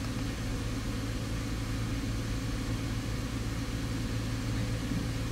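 Holden Captiva engine running in a workshop during a variable valve timing check, a steady mid-pitched drone with a constant low hum and little sign of a sharp rev rise, heard alone without talk.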